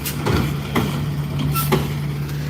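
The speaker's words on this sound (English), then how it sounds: "That's the trash truck." A trash truck rumbles outdoors with a steady low engine drone and a sustained tonal hum, punctuated by several sharp hissing bursts like air brakes, moderately loud and continuous throughout.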